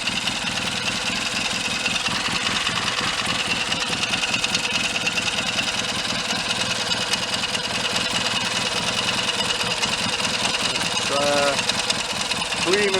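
A rebuilt Triton motorcycle engine idles steadily and close by with an even mechanical beat, running continuously for the whole stretch with no break.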